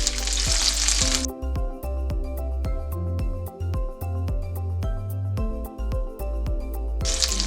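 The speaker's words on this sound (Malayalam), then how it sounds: "ഈ ചിക്കൻ പീസസ് ഗോൾഡൻ കളറാവുന്നിടം വരെ നമുക്കൊന്ന് വറുത്തെടുക്കാം" Chicken pieces sizzle loudly in a pan nearby, a steady fry crackling with regular pops, with louder hissing bursts at the start and end.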